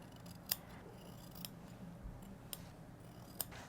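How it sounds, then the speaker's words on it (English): Scissors trim the edge of a quilt-as-you-go fabric placemat in a few quiet, separate snips spaced about a second apart over faint room noise. "I'm just going to trim off just a little bit as I go up through here"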